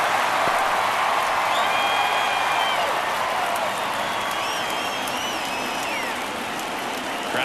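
Steady crowd murmur from a baseball stadium in MLB The Show 24 during a tight ninth inning, a continuous broad wash with faint whistles and calls rising through it.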